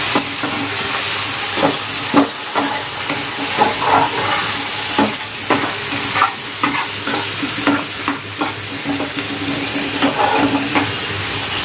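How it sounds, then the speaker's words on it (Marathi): Tomato and onion frying in a pan, a loud sizzle broken by frequent rhythmic spatula scrapes and stirs against the metal, no talking. "आपला टॅमॅटो कांदा वगैरे जो आहे तो फ्राय होतोय"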